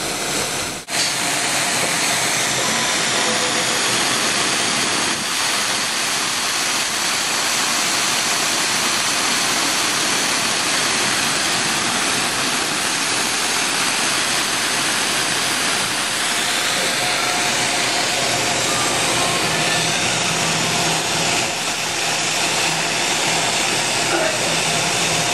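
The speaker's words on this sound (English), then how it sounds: "More liquid nitrogen." Liquid nitrogen poured in a lab and boiling off gives a steady, loud broadband hiss and rush that continues without a break for about twenty-five seconds, sounding close and dense, with no one talking over it.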